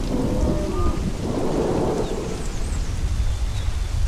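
Heavy rain pours steadily throughout a thunderstorm in the dinosaur survival game The Isle, with a deep rumble of thunder rolling through the first two seconds and no voices.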